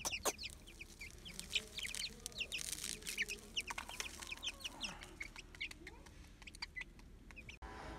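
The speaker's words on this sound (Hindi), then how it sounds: "अभी वो दूसरे जो चूजे हैं ना उनको भी डाल लेते हैं" Young Aseel chicks being set into a rooftop setup give a quick, busy chorus of high peeps and soft clucks at close range, with light handling noises underneath.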